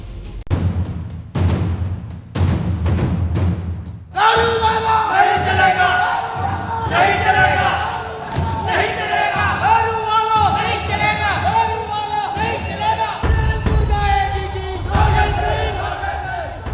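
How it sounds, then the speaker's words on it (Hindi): A crowd of thousands at a Congress supporters' sit-in in Bhopal chants protest slogans in loud unison, with rhythmic repeated shouts that swell into a sustained massed roar of voices throughout. "हजारों की संख्या में जुटी भीड़ और यूपी वाला नहीं चलेगा, दारू वाला नहीं चलेगा जैसे नारों की गूंज"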